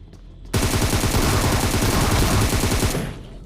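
In PUBG Mobile, a loud close burst of rapid automatic gunfire starts abruptly and rattles continuously for about two and a half seconds before fading off.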